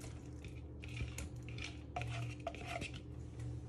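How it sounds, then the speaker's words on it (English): Close clatter of chicken dropped into a metal frying pan, a few knocks and scrapes against the pan with no voices. "Now you want to place your chicken into your pan."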